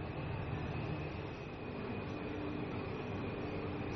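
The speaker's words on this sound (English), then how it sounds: "Pretty scenic way of taking the subway, huh?" A Taipei metro train runs along the red line with a steady, continuous rumble and hum of the rolling carriage, heard from inside with no talk.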